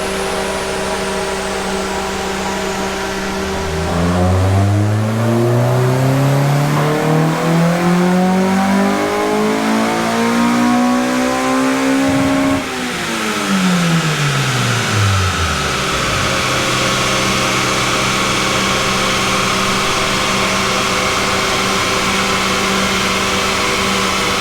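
Honda K20 economy engine fitted in a Mk2 Golf GTS revs hard, pitch climbing in a long sweep and then falling back to a steady idle, loud and close with no talk over it.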